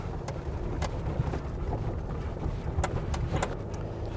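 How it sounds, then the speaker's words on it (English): Strong wind roars and buffets against the microphone high up on Old NC 105 in North Carolina, in a steady low rumble, with scattered faint clicks and knocks, and no voices. "Man, it is killer windy up here."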